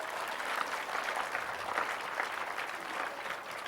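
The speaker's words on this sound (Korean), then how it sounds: "박수 좀 쳐주세요" A church congregation at a prayer teaching session gives sustained, even applause, a steady wash of many hands clapping at moderate distance with no talk over it.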